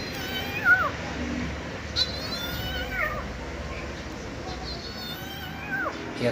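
A man imitates a kitten's meow with his voice, giving several thin, rising and falling mewing calls spaced out over soft background noise.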